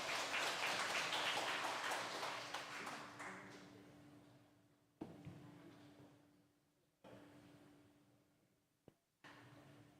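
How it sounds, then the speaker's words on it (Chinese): A congregation at a Taiwanese-language Sunday church service claps in welcome: a full burst of applause that fades away over a few seconds, leaving a quiet room broken by a few isolated taps. "咱用拍手跟感恩的心来欢迎"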